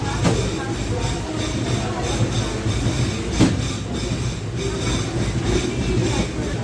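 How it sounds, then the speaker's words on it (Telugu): Express train No. 20967, running Secunderabad to Ahmedabad, pulls out of Kalaburagi station after a three-minute halt, with steady loud rolling rumble and faint rail clatter, a sharper bang near the middle, and rain conditions around. "త్రీ మినిట్స్ ఆగిన తర్వాత డిపార్ట్ అయిపోయింది కలబుర్గి స్టేషన్ నుంచి."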